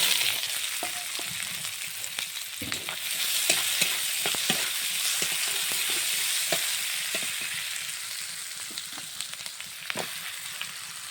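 Green chilli, raw onion and garlic fry in oil in a pan that held potato and pointed gourd, giving a loud, continuous close sizzle with frequent stirring knocks and scrapes.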